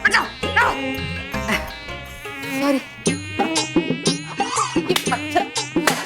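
A mosquito buzzes loudly and insistently in an indoor Hindi TV fantasy-comedy scene, its whine running through busy layered sound with a brief spoken voice.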